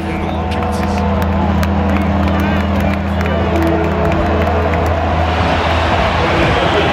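Loud stadium crowd roaring and cheering at an Arkansas at Alabama college football game, a dense sustained wall of noise with a steady low rumble beneath, continuous throughout.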